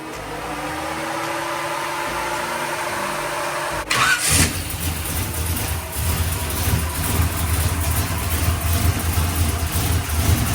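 A car engine cranks and catches partway through, then settles into a steady, loud idle with a low rumbling throb.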